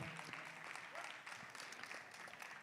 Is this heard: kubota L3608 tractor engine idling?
no